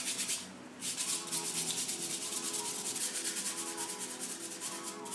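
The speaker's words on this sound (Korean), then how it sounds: "처음에 이렇게 대충 발라준 다음 사포질로 적당히 다듬어주면 됩니다." Sandpaper rubs back and forth over hardened putty in quick, even strokes, a close, dry rasping that pauses briefly and then resumes in a steady rhythm.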